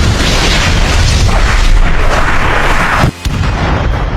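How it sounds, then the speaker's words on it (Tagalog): A loud, rumbling explosion effect from the Hunter x Hunter anime roars continuously at close range, with a brief sharp cut near the end before the blast noise resumes. "At sumabog na ito dahil sa ginawang pagpigil ni Silva sa atake ni Pariston."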